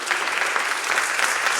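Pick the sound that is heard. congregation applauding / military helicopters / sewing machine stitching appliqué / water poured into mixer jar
congregation applauding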